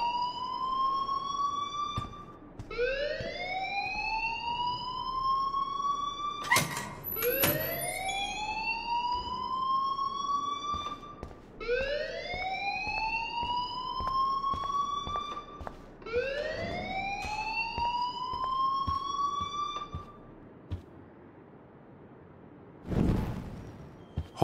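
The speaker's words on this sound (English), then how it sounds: "please turn off that alarm since that's your job" A wailing alarm siren in the Life is Strange video game rises and sweeps in repeated upward cycles, loud and close, with a pause near the end before a sharp burst.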